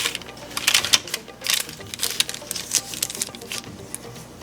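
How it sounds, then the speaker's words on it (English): A knife cuts a corner piece from a pan of cooled pumpkin blondies, making close, soft, irregular tapping and scraping sounds with brief pauses. "I'm just going to cut a piece in the corner to try it"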